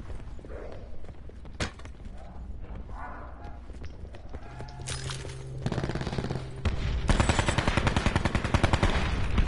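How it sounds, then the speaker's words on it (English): Video game gunfire aimed at zombies, rapid bursts of shots crackling under voices, building to dense, loud sustained automatic fire toward the end. "Oh, Chris, is that you shooting at zombies?"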